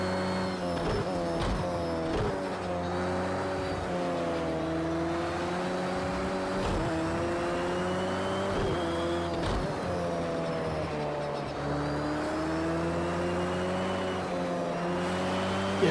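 A 2016 KTM X-Bow race car in Project Cars 2 at Algarve, Portugal, its engine droning steadily with rising and falling revs through gear changes, loud and continuous with no talking.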